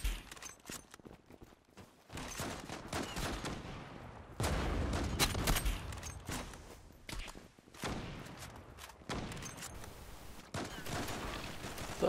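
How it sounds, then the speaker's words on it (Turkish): Suppressed AWP sniper rifle fire in a first-person shooter video game, a run of muffled shots and bursts amid busy in-game gunfire and movement noise, fairly loud throughout. "Arkadaşlar, susturucunun sesini duyuyorsunuz, güzel bir sesi var."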